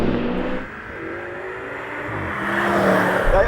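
A BMW M5 with a V10 engine spins its wheels during a drag race, its engine revving up with a rising, strained whine that builds louder toward the end, close and dominant.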